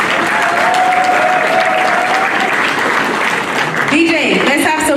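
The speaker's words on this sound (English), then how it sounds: "please, let's give them a round of applause" Audience at a VIP awards gala applauding top donors, loud dense clapping filling the room with crowd murmur, a voice heard partway through and music beginning near the end.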